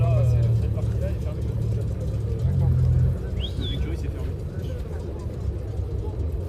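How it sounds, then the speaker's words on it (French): A Ferrari Roma arrives at an outdoor classic car show, its engine a low, steady rumble with a brief swell, heard beneath people talking nearby. "Une belle Roma qui arrive là-bas avec un beau bruit."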